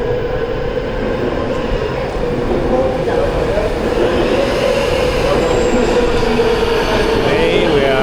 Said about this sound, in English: We're taking the subway. Here comes the train.